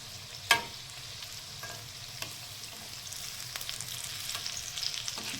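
Pieces of suran (elephant foot yam) are sautéed in a pan over high flame, a steady close sizzle with an initial knock and occasional soft stirring scrapes, no voices.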